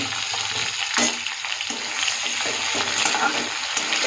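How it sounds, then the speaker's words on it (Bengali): Potatoes frying in a pan give off a dense, steady sizzle with occasional stirring knocks, close and continuous for a few seconds with no voices. "এই লাল লাল করে ভেজে নেব"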